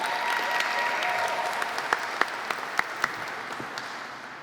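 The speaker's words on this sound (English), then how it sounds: "Please help me give it up a round of applause to the amazing Dennis Contreras." Crowd applause at an outdoor Puerto Rican flag raising ceremony, a steady bed of clapping with a few sharp, close individual claps standing out near the end.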